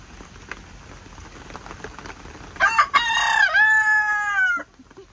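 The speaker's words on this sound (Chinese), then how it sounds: "大公鸡在说话" A rooster in a backyard coop crows once, loud and close, during a nighttime rainstorm. The long drawn-out call cuts through the steady hiss of rain falling on the coop.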